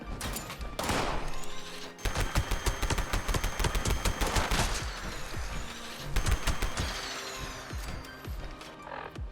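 Automatic weapon fitted with a standard barrel firing in Fallout 76, rapid bursts of gunshots with brief pauses between strings, loud and close, punchy cracks stacking into sustained fire.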